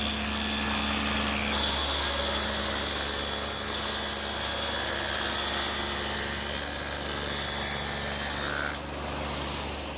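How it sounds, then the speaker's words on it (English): Table saw fitted with a dado head cutter cutting a groove about a quarter inch wide through wood pieces for a medicine cabinet, a loud continuous grinding whine that holds steady and then eases slightly near the end. "I've set up the saw with the dado head cutter again"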